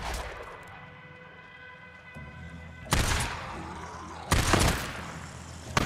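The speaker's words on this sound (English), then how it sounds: "Still gotta worry about these guys shooting at us." Enemy gunfire in Days Gone comes as two loud, broad bursts of shots, with a short crack at the very end, over a quiet droning background.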